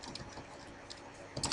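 Computer keyboard typing while a description is entered for a list of clickable images, a rapid patter of light key clicks with a brief denser burst near the end.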